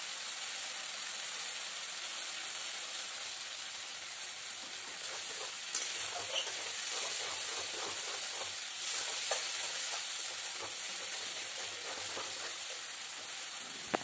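Spice masala fries in a pan with a soft, steady sizzle, and stirring scrapes come through at intervals. The sound is fairly faint and there is no talk.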